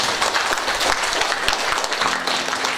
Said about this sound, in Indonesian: mari kita kasih aplaus